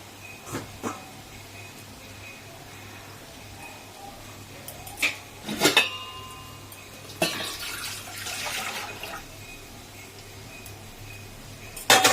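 Rice is stirred in a pot for chicken biryani, giving a few sporadic scrapes and metallic clinks of the spoon over a quiet steady hum.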